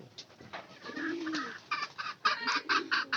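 Pigeons coo and flutter close by, with a low drawn-out coo followed by a busier run of pulsing calls and rustling, louder toward the end.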